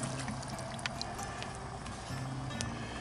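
Water pours into a Dutch oven holding bouillon cubes and a whole onion at a deer camp, a faint, continuous splashing trickle lasting a few seconds with no voices.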